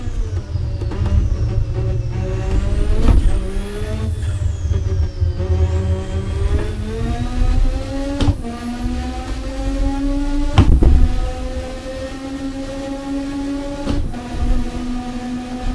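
A race car in Assetto Corsa screams through the revs, its engine pitch climbing in repeated sweeps, each broken by an abrupt gear change, loud and continuous with no talk.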